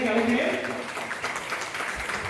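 Hall audience at a Tamil association debate event applauds to welcome a guest, brief steady clapping running under a voice speaking over a microphone.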